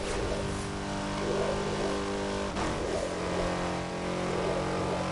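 A VTEC-equipped car engine revs hard in a loud, continuous drone that rises and surges repeatedly through the whole stretch, with no talking.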